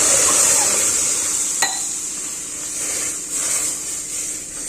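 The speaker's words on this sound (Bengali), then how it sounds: "আর এর মধ্যে এবার দুধ দিয়ে দেবো।" Milk poured into semolina frying in a home kitchen pan and stirred: a close, steady hiss of sizzling, with one brief clink of a utensil partway through.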